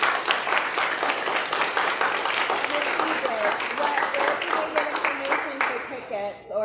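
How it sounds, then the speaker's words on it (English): A theatre audience applauds steadily after a performance, giving dense, continuous clapping close by for several seconds before it fades briefly near the end. "Applause to our audience."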